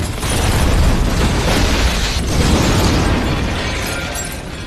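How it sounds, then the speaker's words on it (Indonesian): A loud, sustained explosive roar as a suitcase bomb detonates, with crackling debris, full and broadband throughout, slowly fading toward the end. "tiba-tiba koper berisi patung kuda itu meledak dan menghabisi semua anak buah Shiro"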